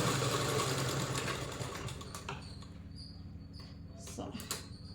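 A foot-pedal (treadle) sewing machine runs continuously at first, with a steady whirring mechanical drone and stitching rattle that fades after about two seconds, leaving quieter clicks and faint handling sounds.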